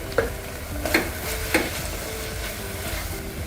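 Onion, tomato and ground spices sauté in a pan while being stirred, giving a soft steady sizzle broken by a few sharp scrapes of the spoon against the pan, with no talking.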